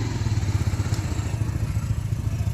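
Motorcycle engine running steadily at close range as a rider carries a passenger, a low throbbing drone with some rattling clatter throughout, no talk.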